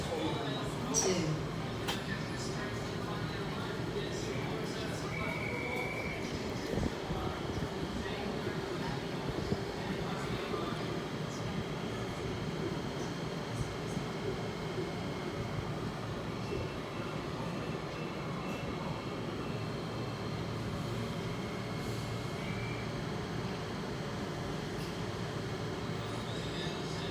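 A Sydney Oscar H set suburban electric train pulls into a platform at Chatswood station with a steady, moderately loud rolling rumble and faint mechanical whine, sustained throughout under station ambience.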